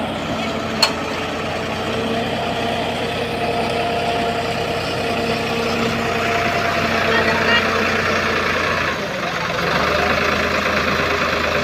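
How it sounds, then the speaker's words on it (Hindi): A tractor engine idles nearby during field work, producing a steady low rumble and vibration throughout with a brief dip near the end, and voices are faintly present. "अब फिर ये वाला ट्रैक्टर लेके आ गए।"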